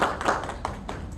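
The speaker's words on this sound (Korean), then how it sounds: "다시 한번 박수 부탁드립니다" Audience applause after a talk at a public forum event, a short burst of clapping from a room of listeners, fairly close and steady.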